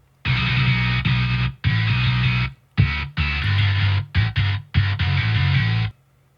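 A DI bass guitar runs through a heavily distorted Parallax preset, playing chugging palm-muted riffs in short bursts with abrupt stops, loud and gritty, no voices.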